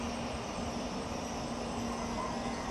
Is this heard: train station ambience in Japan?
yes